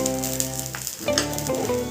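Loud, steady sizzling of spices and onion frying in hot oil, crackling and hissing continuously with a brief dip before the frying surges again.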